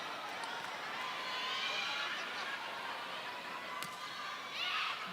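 Arena crowd at a 2022 PVL Open Conference volleyball match, Cignal versus Choco Mucho, keeps up a steady roar of cheering and shouting throughout, swelling slightly near the end, with commentary faintly beneath.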